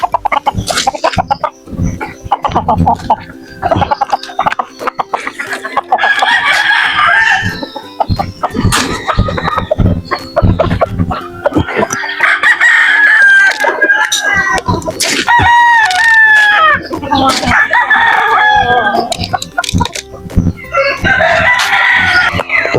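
Loud, close roosters crow repeatedly over a dense chorus of clucking chickens, with scattered clatter and brief talk mixed in.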